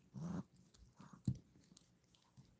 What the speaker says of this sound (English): You hear her little play growls?